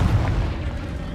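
Explosive burst of the Confringo fire spell in Hogwarts Legacy, a dense, loud low-end boom with crackling rumble filling the short moment, no speech over it.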